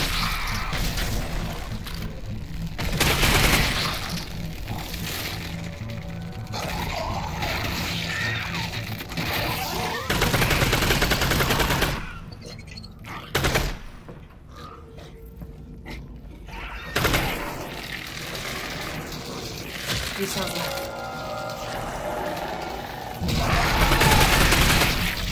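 Gunfire in Half-Life: Alyx, a run of sharp shots in loud bursts spread across a long stretch, separated by quieter gaps of ambient game noise.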